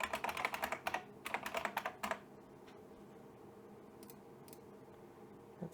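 A computer keyboard is typed on while a network range is entered in OPNsense firewall settings: two fast runs of sharp, close keystrokes, then a quiet stretch broken by a couple of isolated taps.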